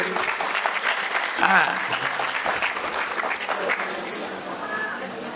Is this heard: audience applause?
yes